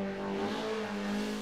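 Mazda race car lapping Mount Panorama at Bathurst, engine holding a steady droning note throughout at moderate level, with no voices.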